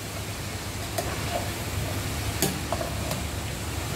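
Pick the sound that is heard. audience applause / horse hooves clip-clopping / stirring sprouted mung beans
stirring sprouted mung beans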